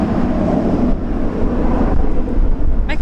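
A Fokker aircraft doing engine runs at an airport during a severe storm, heard as a steady, broad roar that continues throughout.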